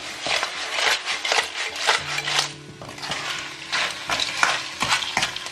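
Clams stir-fried in a wok with a splash of strong baijiu, a spatula scraping and tossing in quick repeated strokes over a gentle sizzle, close with no talking.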